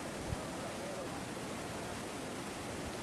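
A muddy river in a flash flood roars with a dense, unbroken rush of turbulent water, loud and constant throughout.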